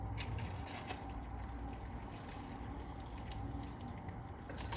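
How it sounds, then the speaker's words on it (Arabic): Water is poured into a pan of noodles and broccoli during cooking, a steady close splashing and gurgling stream that runs for a few seconds without any voices. "نحط بقى الميه"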